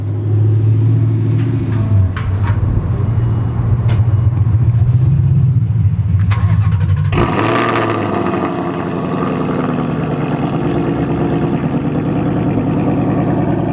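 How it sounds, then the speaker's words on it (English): A Ford Mustang GT's exhaust rumbles steadily at idle, then a sharp blip of revs rises midway and settles into a deep, loud burble. "Let's hear the exhaust first."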